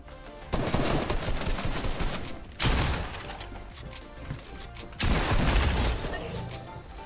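Rocket launcher fire in the Fortnite video game, with three loud, close booming blasts spaced a couple of seconds apart, each trailing off into rumbling game noise, with no talking.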